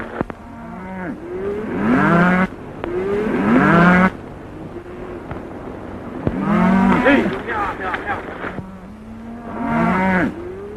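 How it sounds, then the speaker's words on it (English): A herd of cattle on a drive to market, several loud drawn-out moos in a row, overlapping and close, with steady background rumble between calls. "Nice bunch of cattle you're sending to market, Mr. Dawson."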